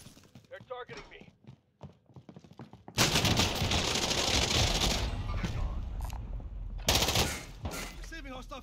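Gunfire in Call of Duty: Modern Warfare Warzone, heavy, loud automatic bursts that break in after a quieter stretch of scattered sounds, run for about two seconds, and flare again briefly near the end.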